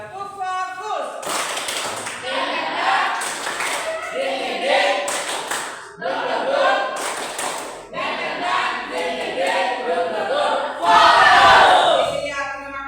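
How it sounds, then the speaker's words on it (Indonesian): A group of schoolchildren in a classroom performs a rhythmic focus clap, with several patterned bursts of clapping and taps. Voices chant along between and over the claps. "tepuk fokus."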